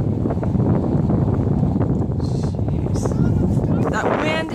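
Strong wind roars and buffets the microphone beside a wildfire, a loud, continuous broadband rush with gusting surges, while people talk underneath.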